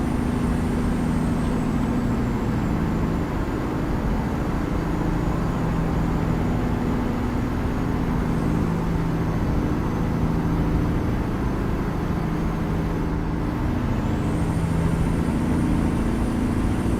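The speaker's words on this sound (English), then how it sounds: "let you listen to the truck a little bit here." Truck engine in American Truck Simulator, a steady low drone with road and tire noise that holds constant and close throughout, with no talking.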